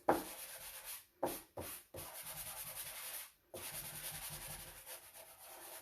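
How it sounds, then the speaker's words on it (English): Rubbing strokes of a finishing pad or sanding sponge over a furniture piece's edges to remove the halo around a transfer, steady broadband scrubbing in several passes with brief pauses between, close and moderately loud. "You need to rub them away with a finishing pad or a sanding sponge."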